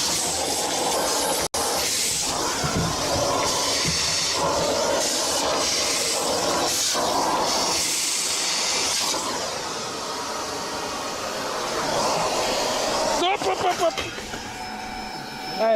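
A vacuum cleaner that has toppled over keeps running on a farm, a loud steady hissing suction roar with a sharp knock early on and people talking over it.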